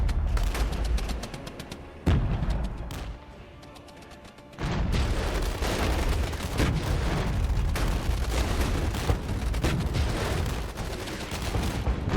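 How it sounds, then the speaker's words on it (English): Mortar fire and gunfire in the video game Regiments keep up a dense, loud barrage of rattling shots and booming impacts, dipping briefly before the heavy fire resumes. "as we are getting hit by mortar fire"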